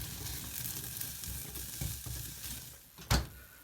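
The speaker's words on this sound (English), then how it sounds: "just dry fry it in a pan" Garlic dry frying in a pan gives a soft, continuous sizzle, broken by a few stirring scrapes and one sharper knock of utensil against pan near the end.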